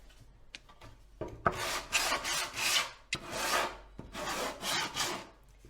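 Rough wood boards on a tall Halloween porch sign are scuffed by hand in several rasping strokes, each a brief broadband scrape separated by short pauses and light taps, close and fairly quiet.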